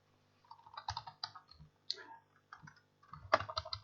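Quiet typing on a computer keyboard, with irregular bursts of soft clicking keystrokes and short pauses between them, heard close up.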